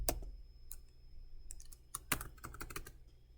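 Code is typed on a computer keyboard in quick uneven bursts of key clicks, close and fairly quiet against a low steady hum, with no one talking.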